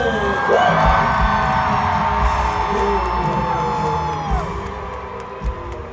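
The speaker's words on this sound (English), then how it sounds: "Give it up for our band team. Big round of applause." A large concert crowd whoops, yells and cheers continuously, with loud excited voices blending into a steady roar that tapers slightly toward the end.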